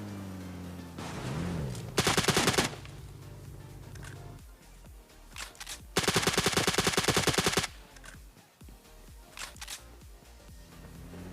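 Gunfire in the video game PUBG: two bursts of loud rapid automatic shots, close and dense, separated by quieter stretches of footsteps and ambient game noise.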